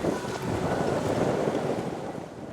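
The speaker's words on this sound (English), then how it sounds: "It's a nor'easter and we're sort of feeding into the wind." Steady nor'easter wind roars across the microphone aboard a cruising sailboat motoring slowly into it, a continuous loud rush with water noise beneath and no talking.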